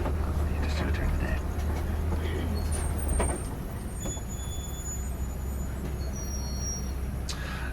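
A safari truck grinds uphill with a loud, steady low engine drone that eases partway through, while someone talks over the vehicle noise.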